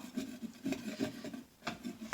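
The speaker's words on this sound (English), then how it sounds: "So I'm going to come over here, scrape my knife really good, and I'm going to just probably peel that off." A knife scraping peeling paint off a wall during dent repair, heard as repeated close rasping strokes with a slight pause near the middle, no talking.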